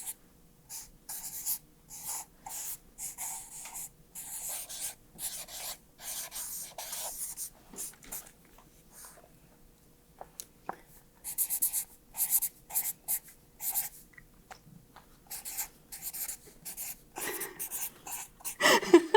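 Pen or marker scratching across paper in short, quick strokes with pauses between, close and fairly loud, as someone writes or draws by hand.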